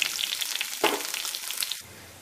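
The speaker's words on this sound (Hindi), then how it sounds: "साथ ही इसमें प्याज डालकर इसे भूनेंगे।" Steady sizzling of onion and garlic frying in hot oil, with a brief stirring clatter midway, close and continuous.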